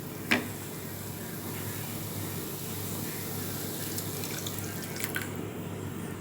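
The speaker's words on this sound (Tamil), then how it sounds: "அந்த பாலை ஊற்றிடலாம்." Milk poured into a pan of carrots cooking for carrot halwa, a steady liquid pour with soft splashing and a brief clink at the start, no talking.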